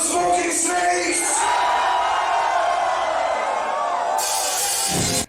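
A concert crowd at a show cheers and roars loudly and steadily, a dense wall of voices with whoops, ending abruptly at the close.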